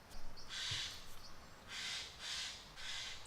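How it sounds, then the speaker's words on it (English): A crow calls from up in a tree nearby, giving several harsh, drawn-out caws in an irregular rhythm, moderately loud, with no one speaking. "I've got a noisy crow right behind me up a tree."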